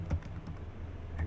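Quick, soft keystrokes on a computer keyboard while code is being entered, a few irregular clicks close by with no talking.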